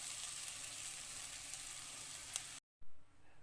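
Basmati rice being stirred in a hot pan for egg fried rice gives a steady, close sizzle that fills the clip, then breaks off in a short silence before resuming more softly.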